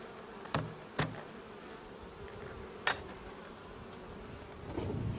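Honeybees around a hive make a faint, low buzzing, broken by a few sharp clicks and knocks.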